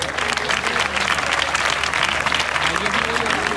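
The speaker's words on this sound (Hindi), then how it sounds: "मेहरबानी करके तालियां बजाते रहें" Applause at a live worship revival festival, a loud, continuous crowd of clapping hands with a low hum beneath, steady from start to finish.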